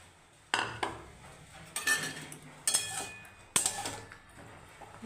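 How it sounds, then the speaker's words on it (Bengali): Potatoes go into a cooking pot with a few distinct metallic clanks and scrapes of a utensil against the pot, spaced about a second apart, near and fairly sharp. "এখন আমি আলুগুলো দিয়ে দেবো"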